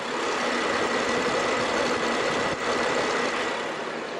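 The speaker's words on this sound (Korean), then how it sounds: "엔진 소음 먼저 들려드리면은" BMW inline six-cylinder gasoline engine idling in a full-size SUV, a steady, smooth, even hum with a brief dip partway through, continuous and close.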